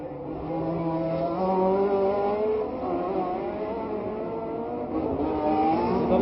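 1967 Formula 1 race cars at the Monaco Grand Prix, engines wailing and rising as they pass in succession, moderately loud with shifting pitches and no talk over them.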